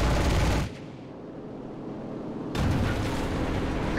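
Gunfire and explosions in the WWII shooter game Enlisted: heavy, loud roaring blasts and rumbling fire that drop away briefly into a quieter lull before a fresh barrage surges back, with no talking.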